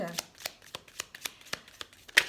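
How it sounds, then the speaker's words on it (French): Oracle cards shuffled by hand for a reading, a quick run of about ten crisp riffling snaps at an even rhythm, close and clear with no talk. "on va tirer quelques cartes de l'oracle intérieur"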